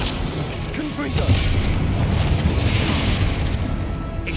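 A Confringo fire spell goes off in Hogwarts Legacy, a loud, continuous rumbling boom that builds and rolls on over several seconds with crackling debris and a sustained low roar.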